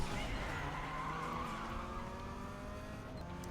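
A Peugeot 206 CC races in Need for Speed Underground 2 with a steady engine note and sustained tire squeal as it skids hard through a corner, loud and close with no talk.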